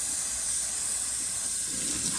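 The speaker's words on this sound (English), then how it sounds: "I'm just going to rinse them in cold water again. I'm just using tap water." Cold tap water runs in a steady, even stream into a sink over sprouts being rinsed, a constant close hiss from start to finish.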